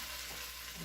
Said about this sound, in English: I'm going to throw in the ham. Mix that up.